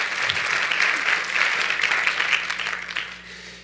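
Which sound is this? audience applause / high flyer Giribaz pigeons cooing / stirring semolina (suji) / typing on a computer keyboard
audience applause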